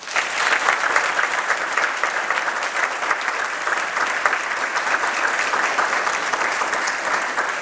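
Steady, full applause from a business-event audience welcoming an entrepreneur to the stage at a startup competition in Broward, South Florida, sustained and even throughout without talk.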